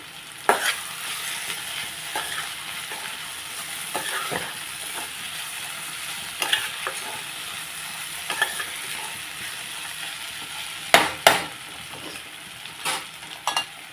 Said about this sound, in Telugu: కొత్తిమీర వేసేసాను కదా ఒకసారి కలిపేసి